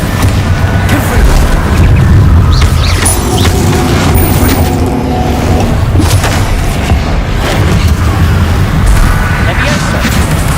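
Bombarda and Confringo spell blasts in Hogwarts Legacy land as loud, dense booms and crashing impacts, one after another over a constant rumbling bed of game sound, with a player's voice breaking in at times.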